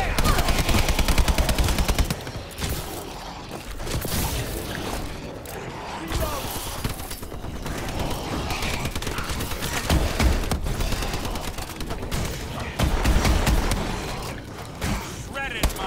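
Sustained automatic gunfire rattles nonstop through a Call of Duty Exo Zombies match, loud rapid bursts with heavy impacts, while players talk over the shooting.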